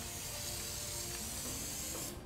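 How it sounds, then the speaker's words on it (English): Spray can applying coil coating to an air conditioner coil, a steady continuous hiss running close and loud for about two seconds before cutting off. "I'll show you the process of how you spray this coating on"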